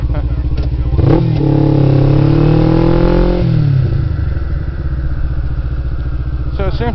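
A motorcycle engine revs during a riding lesson, climbing sharply to a loud sustained pitch for a couple of seconds before dropping back to a steady idle rumble.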